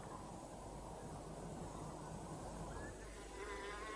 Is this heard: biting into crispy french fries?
no